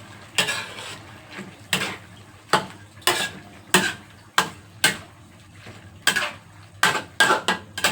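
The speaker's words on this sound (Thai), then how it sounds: "เดี๋ยวเราก็จะตักใส่จานค่ะ" Stir-fried squid with holy basil being scooped from a pan onto a plate, a run of sharp metal scrapes and clanks of a spatula against the pan at an uneven pace, close and loud, with faint sizzling underneath.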